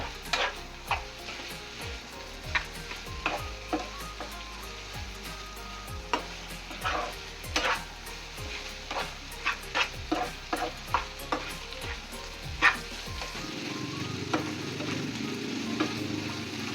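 Dhaba-style egg bhurji sizzles loudly in a pan as a spatula scrapes and mixes it in quick, repeated strokes over a steady frying hiss. The sizzle drops away abruptly near the end.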